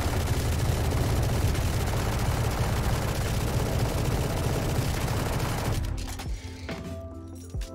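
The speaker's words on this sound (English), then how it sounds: "we don't actually get this on the Odin, but what we do get instead is a massive amount of vertical recoil right at the start." The Odin machine gun in Valorant fires one long, unbroken full-auto spray. It makes a loud, dense roar of rapid shots that holds for nearly six seconds before it cuts off, leaving faint clinks and the tail of the gunfire.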